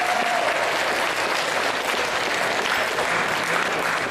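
Dense, sustained crowd applause at a high school fencing championship tournament, many hands clapping at an even, loud level throughout with no speech over it.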